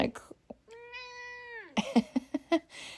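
A cat gives a single drawn-out meow at close range, with quiet talk before it and louder speech right after.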